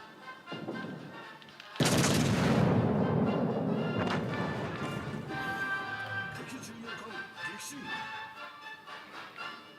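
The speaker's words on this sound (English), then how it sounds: "We'll go round with one volley of AP and see if it does anything." A volley of AP shells fired from the guns of a cruiser in World of Warships: Legends, a sudden loud crashing boom that rolls off into a long rumbling decay, with a voice talking over the tail.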